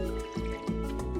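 Watering crops in the farming game Stardew Valley, heard as a short burst of splashing, trickling water over steady background game music.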